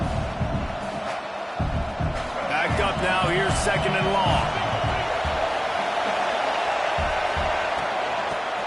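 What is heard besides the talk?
LSU home crowd cheering at football game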